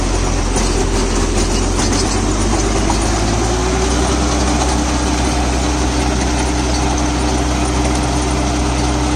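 Mahindra Novo 605Di CRDI 60 HP 4WD tractor running a banana mulcher off the PTO, a loud steady diesel drone with a deep low hum, its tone settling slightly lower partway through as the load changes.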